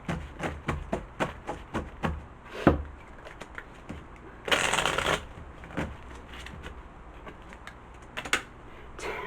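Tarot cards are shuffled and riffled close by, with quick papery slaps in a loose rhythm, a longer riffle midway, then scattered taps as the cards are handled and laid down.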